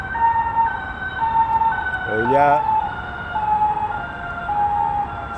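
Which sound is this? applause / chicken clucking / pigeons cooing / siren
siren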